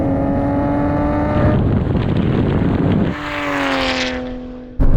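Nissan GT-R R34 in a drag race, a loud engine roaring and climbing through gears as it passes close, with a rising whine and a brief shift break midway.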